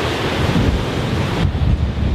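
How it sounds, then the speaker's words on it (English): Strong north wind blows across the coast at Cape Vidal, a steady close roar buffeting the microphone over the wash of surf, with no voices. "The wind's blowing quite strong,"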